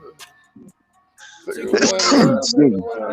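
A single short sneeze bursts out, followed by someone speaking loudly in a close, echoey room.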